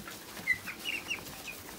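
Fifty broiler chickens clucking softly in a pen on a hot day, faint scattered clucks and short calls over quiet background noise.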